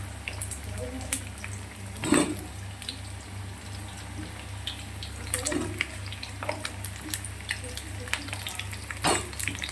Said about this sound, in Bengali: আলুগুলোকে একটু ভালো করে ভেজে নেব